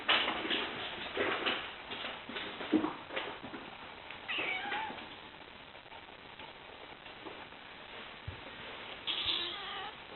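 A kitten meows indoors, several clear calls spread across the stretch, fairly close and moderately loud against quiet room noise.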